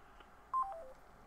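A short run of telephone dialing tones as a number is keyed on a mobile phone to call someone back, a few quick beeps in close succession, fairly faint and alone.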